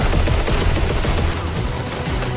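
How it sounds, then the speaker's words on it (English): Sustained, loud machine gun fire in a Call of Duty WWII multiplayer battle, dense overlapping bursts rattling continuously with no pauses or voices. "A lot of machine guns."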